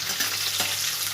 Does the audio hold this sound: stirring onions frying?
yes